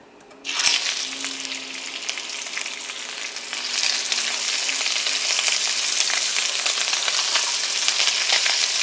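Sea scallops fry in a greasy pan. After a brief quiet start, the sizzle erupts into a loud, dense crackle that keeps building and holds steady to the end.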